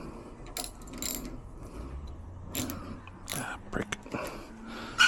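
Ratchet with a 1/2-inch socket working on a Toro TimeMaster mower's bail control, quick bursts of clicking pawl with metallic handling and a soft voice nearby.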